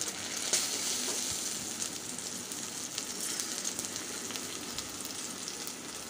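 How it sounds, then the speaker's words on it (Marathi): A curd and kadhi mixture hits a hot pan with a steady, loud sizzle and frying crackle that runs throughout, with faint stirring scrapes and no talking. "तर आता हे दही आणि कढीचं मिश्रण जे आहे आपण इथे टाकूया"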